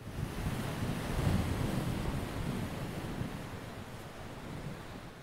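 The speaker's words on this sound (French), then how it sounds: "il y a énormément de vent" Strong gusting wind of a sandstorm buffets the microphone, producing a loud, continuous low roaring rush that swells and eases slightly, with no voices.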